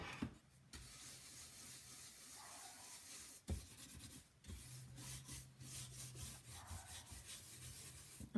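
Brush buffing a wax finish over gold leaf on a piece with Iron Orchid molds, close dry bristle rubbing in repeated strokes with brief pauses, quiet and alone.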